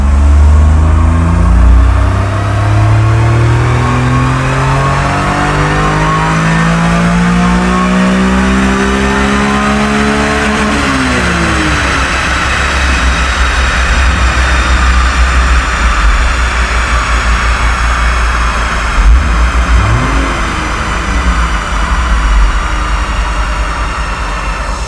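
A Honda Beat's 3-cylinder engine revving hard on a rolling road dyno, steadily climbing in pitch, then dropping and holding a loud, continuous drone with a whirring mechanical rumble of the rollers underneath.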